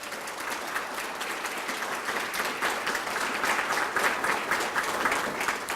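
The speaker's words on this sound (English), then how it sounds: "I think that Susan deserves a special round of applause," An audience at a Hall of Fame induction ceremony breaks into continuous applause, a dense, even crackle of many hands that swells slightly toward the end without any talk.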